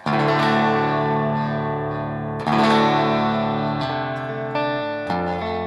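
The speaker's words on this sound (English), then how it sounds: "bring up the neck on my Tele, and good strong strum" Two strong strums on a Fender Telecaster's neck pickup with new strings, through a Boss GT-1000 modeller, ring out close and loud, each chord sustaining, followed by a few quicker strummed chord changes.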